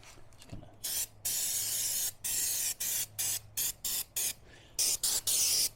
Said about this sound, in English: That's some brake clean.